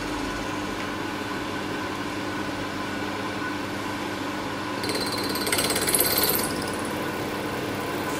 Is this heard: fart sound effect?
no